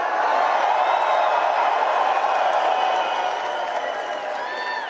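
A rally crowd of about 5,000 people in Surrey, British Columbia, roars in steady, dense cheering that holds loud and constant throughout, with no single voice standing out.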